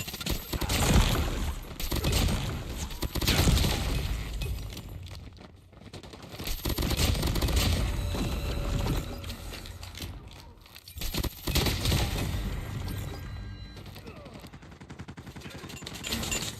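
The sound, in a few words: gunfire and reloading in Call of Duty Mobile video game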